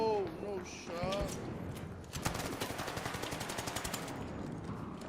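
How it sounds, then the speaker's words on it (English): Gunfire in a Call of Duty MW3 ranked match, a close, rapid string of sharp, evenly spaced shots that follows a brief burst of a talking voice. "he shot the shotgun from all the way the fuck over there"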